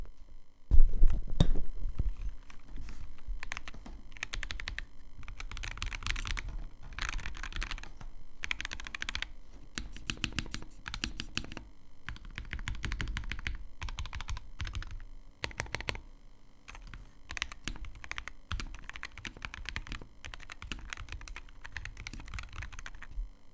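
Typing on a Wooting 60 HE+ Hall Effect keyboard with a normal foam insert between PCB and plate. The keystrokes are rapid, close and continuous, with bursts of clacks and brief pauses and no voices.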